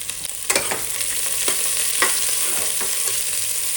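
Two large onions frying in hot oil in a pan for chicken biryani, a loud continuous sizzle broken by a few scraping stirs of a spoon.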